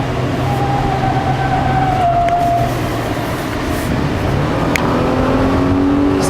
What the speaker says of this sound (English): Second gear kicked in